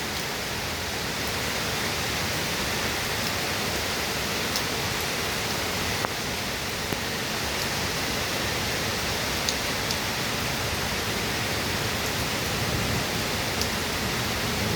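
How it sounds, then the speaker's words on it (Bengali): Heavy, continuous rain falls over Dhaka city buildings, a dense, even roar of water with no breaks or voices, steady from start to finish. "সকাল থেকে বৃষ্টি হচ্ছে"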